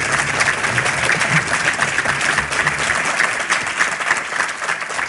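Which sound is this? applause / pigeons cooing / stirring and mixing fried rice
applause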